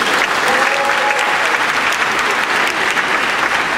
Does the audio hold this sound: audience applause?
yes